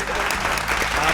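Brief burst of audience applause at an outdoor game show in a park, dense and steady clapping from a crowd with some voices underneath.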